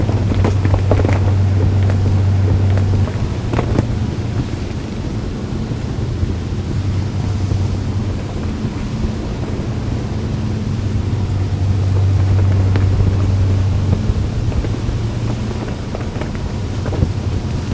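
A 2007 Sunseeker Superhawk 43 motorboat runs at about 30 knots with a steady engine drone, rushing water and heavy wind buffeting the microphone throughout, no voices.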